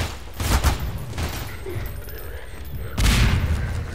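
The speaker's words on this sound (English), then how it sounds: "They're really killing each other with grenades." Grenades exploding in Half-Life 2 combat, two heavy booms roughly three seconds apart, one early and one near the end, each with a broad rumbling burst over a noisy battle din.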